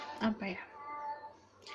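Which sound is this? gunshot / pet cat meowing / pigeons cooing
pet cat meowing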